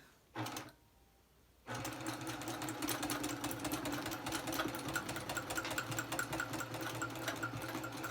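A domestic sewing machine bastes on a Cutie quilting frame, giving a brief burst of stitching, a short pause, then a long steady rapid mechanical chatter, close and moderately loud, with no talk.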